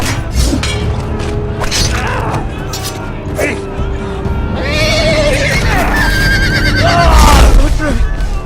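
In the Game of Thrones video game, a horse whinnies loudly several times amid clattering, thumping game action, the neighs rising and falling in shrill bursts.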